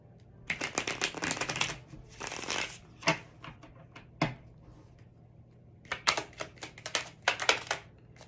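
A tarot deck, the Chocoli deck, shuffled by hand in quick riffling bursts with short pauses, close and clear, with no voices.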